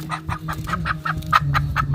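Chickens cluck close by in a quick series of short, regular calls, about a dozen in two seconds, over a faint low hum.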